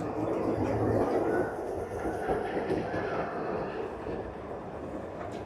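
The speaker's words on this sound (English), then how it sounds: "I can just hear the tram coming" A tram rumbles and rattles steadily, loud and close at first, then eases slightly as it continues along the rails in Port de Soller, Mallorca, Spain.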